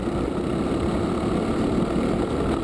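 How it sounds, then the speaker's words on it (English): Honda Cadet Clubman racing kart engines at Rye House during the 2012 London Cup race, a steady dense engine drone holding constant throughout with no talk. "look at that whole stream of karts coming through"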